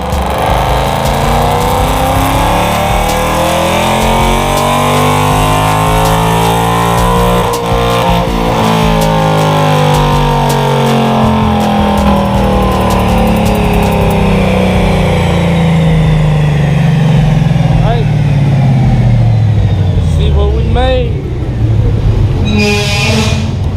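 A car on a dyno running an E85 tune revs loud and hard through a long pull, with engine pitch sweeping up and down continuously for over twenty seconds, close and dominant.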